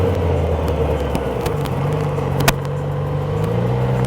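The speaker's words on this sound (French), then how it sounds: "je commence à freiner et rétrograder pour atteindre le demi-tour en première" Motorcycle on a licence-test track braking and downshifting toward first gear for a U-turn; a steady engine drone with a low tone that shifts pitch midway, plus a brief click.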